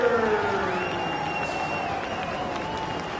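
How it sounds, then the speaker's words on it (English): Wrestling arena crowd applauding Davey Richards of the American Wolves at a Ring of Honor TV title tournament final, a steady broad wash of clapping and cheering with a whistle-like tone and voices mixed in. "most of the applause for Davey Richards"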